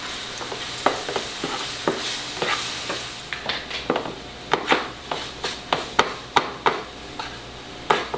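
A spoon scrapes and stirs steadily through flour and vegan gluten-free poutine gravy in a pan, with a faint sizzle underneath and a quickening run of close, rhythmic knocks toward the end, no voices.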